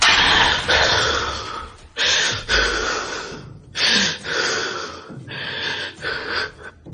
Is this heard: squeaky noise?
no